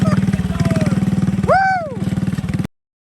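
An antique engine chugs at a steam engine show, a loud, regular rhythmic putter close by; a rising whistle-like tone cuts in briefly midway before the sound stops abruptly.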